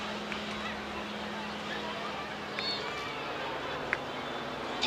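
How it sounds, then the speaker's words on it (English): A Bristol Pegasus aircraft engine at a seaside airshow at Clacton gives a steady, even droning roar that holds at a constant level throughout. "The wonderful sound of that Bristol Pegasus engine we're getting from our microphones on BBC Essex."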